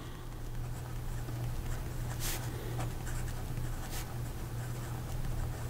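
Medium steel nib of a Marte Modena Citizen fountain pen writing with Private Reserve ink, giving a steady, quiet scratchy rasp across the paper with a few brighter strokes, close up and alone, over a faint low hum.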